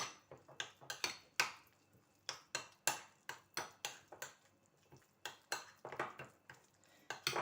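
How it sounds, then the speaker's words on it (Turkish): Cheese and parsley mixture stirred in a bowl for a cornmeal breakfast dish, a spoon clinking and scraping against the bowl in a quick, irregular series of sharp taps, close and fairly quiet, with no talking. "Hepsini tekrar karıştırıyorum."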